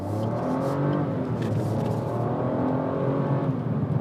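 A 2017 Suzuki Swift accelerates on a UK road, its engine note climbing steadily through a sustained, fairly loud drone with tire and wind noise, no talk over it.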